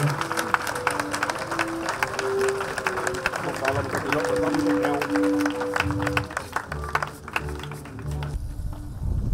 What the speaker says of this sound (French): Les choristes, vous vous levez, l'assemblée les acclame.